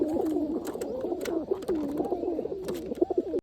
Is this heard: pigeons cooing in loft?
yes